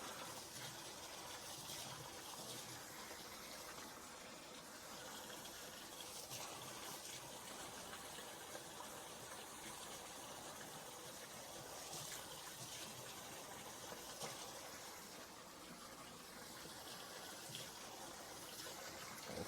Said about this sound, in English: Give that silicone a good wash.